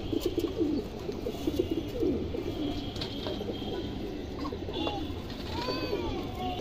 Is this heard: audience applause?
no